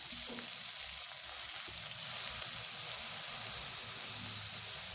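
Vegetables stir-fried in a pan for chicken soup give a steady, close sizzle with bright crackling spread across the whole clip, plus a few soft scrapes of stirring and no talk.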